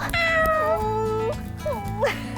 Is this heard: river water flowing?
no